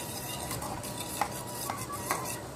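A spoon slowly stirs health mix powder porridge in a pot of boiling water, giving soft continuous scraping with a few light clinks against the pan, with no voices.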